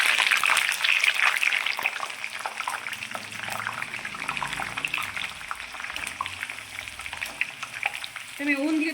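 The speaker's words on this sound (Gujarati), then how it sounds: "બધા રીંગણા આપણે આમાં નાખી દઈશું" Brinjal pieces fry in hot oil in a wok for a mixed five-vegetable curry, a loud continuous crackling sizzle with bubbling and occasional stirring, close and steady throughout.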